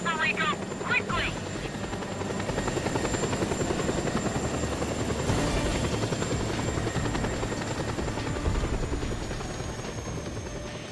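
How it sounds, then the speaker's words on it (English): Attack helicopter in the video game Just Cause 2, its steady rotor drone loud and continuous throughout, with a brief chirpy burst near the start and game voices faintly mixed in. "try to take out the helicopter that's attacking Carl Blaine"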